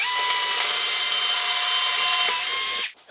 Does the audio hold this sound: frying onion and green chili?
no